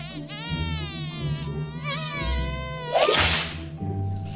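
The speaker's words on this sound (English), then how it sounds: "You let the bugs get in." Buzzing space bugs in a sci-fi scene, wavering whiny insect-like buzzes over a low hum, with a sharp whip-like crack near the end, close and fairly loud.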